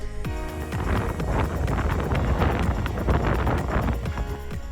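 Strong wind buffeting a microphone at the Mount Aso crater, loud continuous rumbling gusts near the mic with low-frequency thumps throughout.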